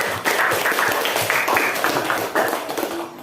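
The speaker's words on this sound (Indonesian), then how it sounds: "Tepuk tangan untuk Biswati." A classroom of students gives a short burst of applause, a quick patter of many hands clapping close by that fades out after about three seconds.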